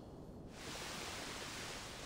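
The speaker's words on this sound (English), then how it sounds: "And so we basically have our ocean waves" A synthesized ocean-wave ambience for relaxation sound design swells in after a quieter opening into a steady, faint, broadband hiss like distant surf, with no voices.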